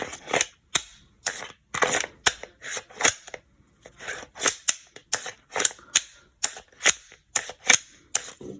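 Glock 17 pistol magazines, factory Glock and ETS types, repeatedly slammed into and dropped out of the pistol, giving a steady run of sharp, close plastic-and-metal clacks, about two per second, with no talk.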